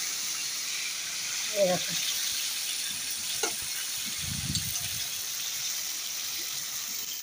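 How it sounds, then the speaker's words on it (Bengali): Whole lote fish (Bombay duck) fry in hot oil with a steady, soft sizzling hiss throughout, broken by a few brief spatters and a short bubbling burst, while a voice speaks briefly. "লোটে মাছ গোটা গোটা ভাজা যায় কিনা দাঁড়াও তা ভেজে তোমাদের দেখাবো"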